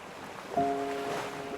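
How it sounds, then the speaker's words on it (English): Ocean waves break below a viewpoint above the water, a brief, fairly soft wash of surf with some wind noise and no talking. "if you look down at the water here, when you see the waves break, there are patterns in the foam"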